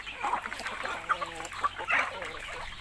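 Backyard chickens cluck and squawk in short bursts as they are fed, close and lively, while a person talks faintly in between.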